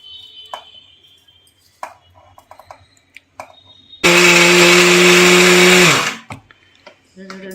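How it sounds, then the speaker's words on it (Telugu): A mixer grinder whirs loudly and steadily for about two seconds while grinding flax seeds into powder, then winds down, with quieter handling knocks before and after. "ఇప్పుడు మిక్సీ పట్టాం కదా"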